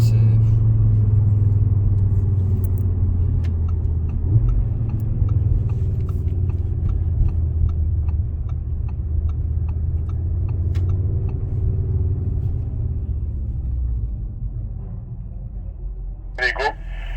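Audi RS3 8Y accelerating on an open road near Circuit Paul Ricard: a loud, sustained interior engine rumble whose pitch sweeps upward through the gears over several seconds, with a brief sharp click near the end.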